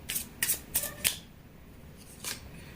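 Tarot cards being shuffled and drawn, four quick riffling bursts in close succession, then a pause and one more softer card flick, close and fairly quiet.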